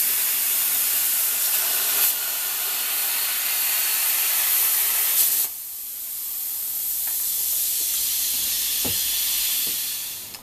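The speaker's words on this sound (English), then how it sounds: "So here you can see I'm cutting out the top grate." Cutting mild steel parts for a homemade folding camping stove, likely with a plasma cutter: a continuous bright, hissing roar that abruptly drops to a softer steady hiss midway, with a few faint clicks near the end.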